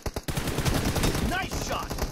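Rapid bursts of automatic gunfire crackle loudly in an online multiplayer shooter video game, the shots packed into fast volleys over about two seconds.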